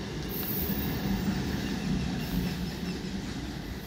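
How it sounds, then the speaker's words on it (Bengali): An Up Howrah–Bandel local train moves towards Bandel Junction with a steady, loud rumble of wheels and carriages and faint high wheel squeals now and then. "Howrah Bandel local train"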